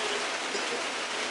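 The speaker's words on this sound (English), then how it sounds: "it is raining outside" Steady rain falls outside with an unbroken, dense hiss, close and even throughout the moment, no voices or other sounds standing out.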